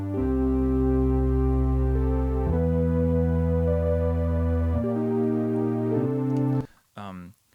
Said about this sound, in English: And also a very warm analog synth sound.